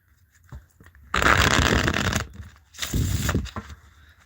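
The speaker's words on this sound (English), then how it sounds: "One more shuffle." Two bursts of crisp riffling as a tarot deck is shuffled up close, the first longer, separated by a short pause.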